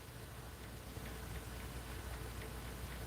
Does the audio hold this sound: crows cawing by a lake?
no